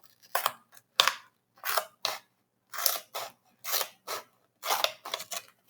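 Paper being snipped with scissors while a macaw craft is made: about a dozen short, crisp cuts come in quick uneven bursts, close and clear, with no talking over them.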